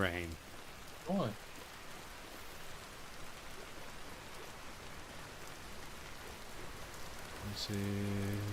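Steady rain in Vintage Story, a soft continuous hiss of falling drops under brief bits of talk and interface sounds.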